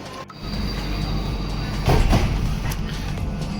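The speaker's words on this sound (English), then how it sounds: "you have the trains passing by" A train rumbles past in Singapore at a steady roar, with faint squeals and rattles over a constant low drone.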